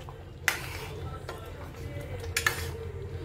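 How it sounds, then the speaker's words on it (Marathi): A spoon scrapes and clinks against a pan while chole masala is stirred, with a couple of sharp metallic knocks over a low background hum. "छान मिक्स करून घेऊ."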